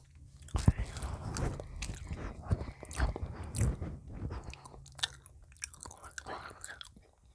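A donut bitten and chewed up close, with soft crunchy bites and moist chewing in an irregular rhythm, loud and near. Faint voice sounds appear now and then.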